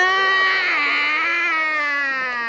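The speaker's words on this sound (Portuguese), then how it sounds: "Também tem o choro estridente do garoto." A boy in a TV show cries shrilly, one sustained high wailing sob that dips slightly and trails off, close and alone.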